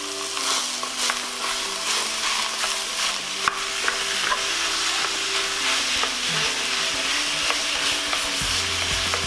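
Two pounds of 90-10 ground chuck browning in a pan, a loud continuous sizzle close up with frequent scraping and stirring clicks throughout.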